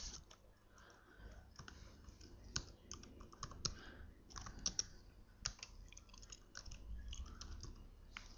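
Close computer keyboard typing as HTML table code is written, irregular bursts of crisp clicks with short gaps throughout, no speech.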